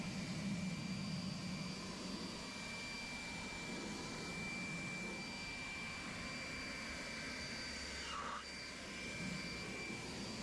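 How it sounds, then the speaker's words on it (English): A leaf blower drying a freshly cleaned tire on a driveway, a constant loud roaring whoosh that holds steady throughout with no talk. "We're going to get it started with the leaf blower"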